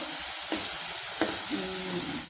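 Ginger garlic paste frying in a pan for a mushroom curry, a steady close sizzle with a couple of brief stirring scrapes, no talk.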